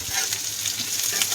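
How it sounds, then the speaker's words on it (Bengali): Onion and capsicum fry gently in a pan. The sizzle is steady and near, with faint crackles throughout. "এবারে পেঁয়াজ আর ক্যাপসিকামটা ছেড়ে দেবো। প্রথমে পেঁয়াজটাকে দিয়ে দেবো।"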